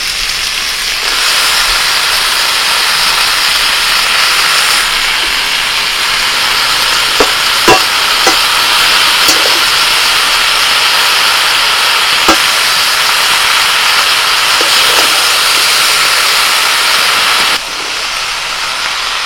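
Red amaranth greens frying with vegetables and spices in a hot pan, giving a loud, steady sizzle and hiss with a few faint clicks and stirring sounds, no talk.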